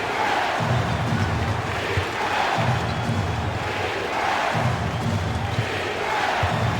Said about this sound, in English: Marv, this home crowd is going crazy.